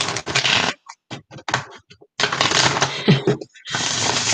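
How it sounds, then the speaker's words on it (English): Tarot cards being shuffled during a live reading, heard as a series of crisp broadband riffling bursts separated by brief pauses, fairly close and loud, with no talk over them. "I'm going to go ahead and start shuffling."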